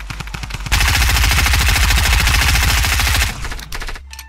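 Sustained automatic gunfire rattles loud and close for a few seconds from a team shooting out of a golf cart, then breaks into a few short trailing bursts.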